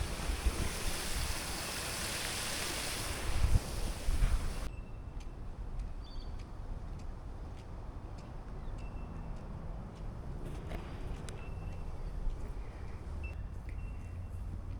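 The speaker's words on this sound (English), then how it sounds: "Okay, I think it's just a pump. I don't know. Oh, here. It's just water going through." Water runs steadily through a pump in a botanic garden, a continuous soft wash of sound with faint clicks and small bursts above it, fairly quiet and with no talk.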